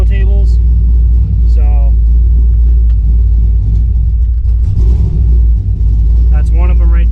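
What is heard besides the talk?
Camaro engine idling with long-tube headers and true dual exhaust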